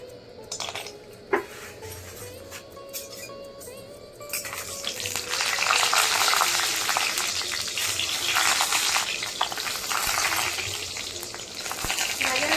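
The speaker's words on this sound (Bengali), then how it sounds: "কয়েকটা বড়ি ভেজে নেবো আগে" Lentil dumplings (bori) fry in oil in a wok: a quieter sizzle at first, then a louder, dense, crackling hiss that swells and holds steady.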